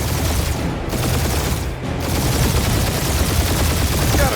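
Continuous rapid gunfire in the video game Guardians of the Galaxy, a dense, loud barrage of blaster shots filling the whole stretch without pause.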